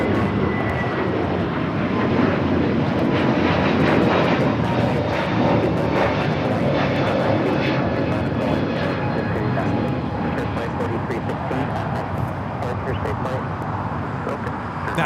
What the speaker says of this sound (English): That was Frontier 4316 taking off to Atlanta on the A321neo